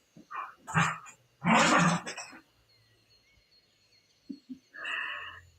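A puppy barks and yips in short close bursts, two loud clusters early on, then fainter whimpering yips near the end.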